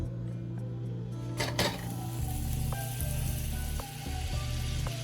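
Salted butter hits a hot pan while scalloped potatoes are being prepared, giving a steady close sizzle with a few brief utensil clinks and scrapes against the pan.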